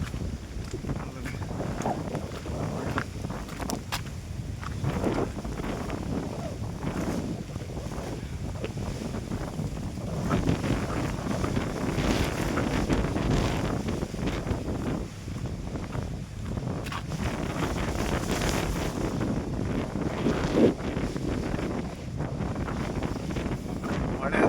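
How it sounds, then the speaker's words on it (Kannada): Strong wind buffets the microphone in continuous gusts, with a steady rushing wash of rain underneath at the Kotebetta hilltop in Coorg, and a person talking over it. "ಗಾಳಿ ಮತ್ತು ಮಳೆ ತುಂಬ ಜಾಸ್ತಿ. ಗಾಳಿ ಜಾಸ್ತಿ."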